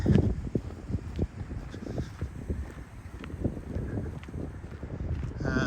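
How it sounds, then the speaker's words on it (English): A cool easterly wind blows across open parkland at Chatsworth Park in the Peak District, buffeting the microphone with steady low rumbling gusts and scattered faint background sounds, no talking. "it's that slightly cool easterly wind"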